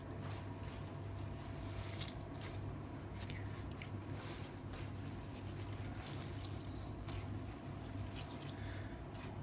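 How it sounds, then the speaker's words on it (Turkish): Kaldirik greens are wrung out by hand until no water is left, giving a faint, steady wet trickling and squelching with no talk. "Suyunu sıkalım. Hiç su kalmayana kadar sıkalım arkadaşlar."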